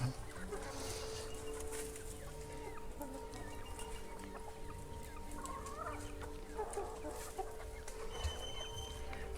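Rooster clucking amid other farmyard fowl, repeated calls over a steady background, moderately close.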